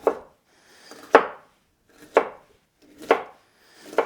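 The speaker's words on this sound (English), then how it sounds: "So the other half, cut nice and fine." Vegetables are cut finely with a knife on a board: four or five distinct, evenly spaced chops about a second apart, each a sharp close thud with a short scraping tail, no voices.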